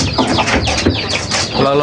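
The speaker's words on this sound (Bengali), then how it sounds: "দেখেন এই মুরগিটা" A large rooster kept near pigeon coops gives a short crowing call, close and fairly loud, mixed with a person talking over it throughout.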